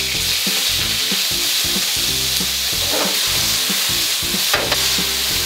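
Chicken pieces frying in hot oil in a wok, a continuous loud crackling sizzle with close clatter of a spatula stirring and scraping against the pan, no voices.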